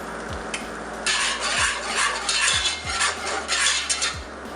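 Garlic sizzles in a hot pan while a utensil stirs and scrapes it around, giving a steady frying hiss with bursts of louder scraping. Close up, with no voices.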